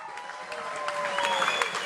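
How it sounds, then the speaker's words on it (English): Crowd at an outdoor rally clapping in a steady, moderately loud wash, with a sustained tone and scattered voices mixed in underneath. "I think we should give him another round of applause."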